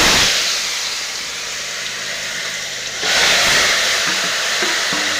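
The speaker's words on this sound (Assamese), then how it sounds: "মই এতিয়া গৰম তেলত দি দিম।" Food frying in hot mustard oil hisses and sizzles steadily close up. The sizzle swells louder about halfway through as steam rises, and nobody speaks.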